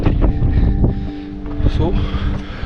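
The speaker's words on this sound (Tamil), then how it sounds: "காற்று பயங்கரமாக இருக்குது." Strong wind on a mountain trek buffets the microphone in loud, gusty rumbles and rustles, with a voice talking over the blustery noise throughout.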